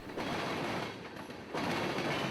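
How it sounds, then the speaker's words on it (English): A freight train led by SD60I and SD40-2 locomotives rolls past on a Miami-bound line, a steady loud rumble with rattling wagons that briefly dips mid-clip and then surges again. "The SD60I and the leased SD40-2 were unusual for this Miami-bound train"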